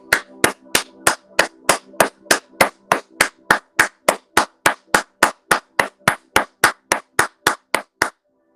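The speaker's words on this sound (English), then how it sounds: "That was applause for you" Single person clapping hands in a slow, very even rhythm, about two dozen sharp, close, loud claps, each separated by a short pause, with no other sound between them.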